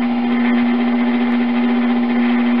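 Potter's wheel spinning steadily while a pot is thrown, a constant motor hum with a strong steady tone and even whir, uninterrupted and fairly loud.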